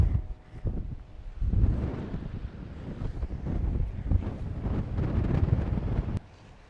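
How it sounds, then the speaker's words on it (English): Gusty coastal wind buffets the microphone in a steady low roar, rising and falling, with a faint wash like surf beneath it, then it cuts out abruptly. "Windy this side."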